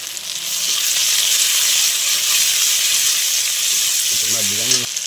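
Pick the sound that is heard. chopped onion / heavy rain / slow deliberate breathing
chopped onion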